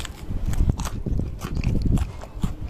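Crunchy bites and chewing into a crispy-bottomed bun pizza, a series of close, loud crackling crunches in an uneven rhythm, with no talk.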